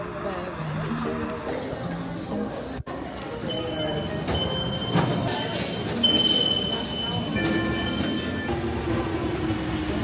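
A metro train carries passengers along the line with a steady rumbling roll, brief wheel squeals and clicking over the rails, while people chatter nearby.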